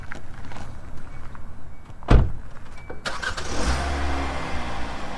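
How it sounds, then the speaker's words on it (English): A car engine cranks and catches after the hood is closed on a vehicle just fitted with an aftermarket emissions module, a sharp burst of starting noise followed by a steady, loud idle rumble. "start the car as you normally would"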